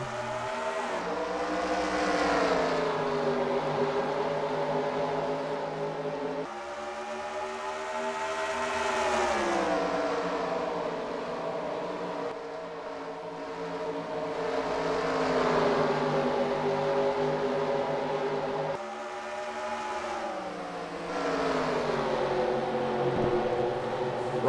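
Race cars circling a dirt track at Oswego in a racing video game, their engines droning and rising and falling in long repeating sweeps as the pack passes, loud and steady, with no voices.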